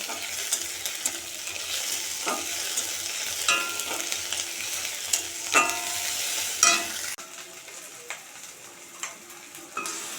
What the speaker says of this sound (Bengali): পেঁয়াজ ক্যাপসিকাম এগুলো দিয়ে ভাজা ভাজা করছি